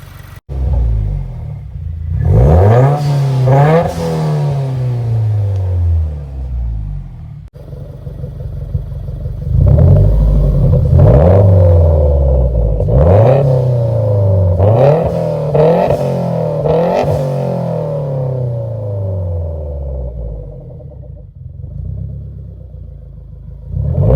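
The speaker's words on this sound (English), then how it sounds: "We'll see if we can get a few revs in." A 2018 Subaru WRX with a Tomei unequal length header idles, then revs up repeatedly in loud, rising bursts that fall back to a rumbling idle, close by and with no voices.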